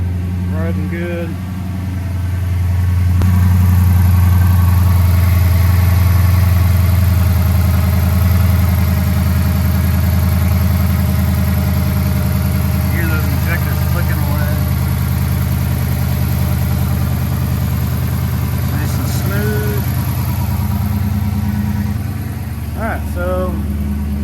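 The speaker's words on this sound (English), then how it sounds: "we will let that idle for a minute, build up some pressure, and check for leaks again" A Dodge Charger's 5.7-liter engine idles steadily after a water pump replacement, a continuous low rumble with a loud, even drone throughout, with brief talk near the middle and end.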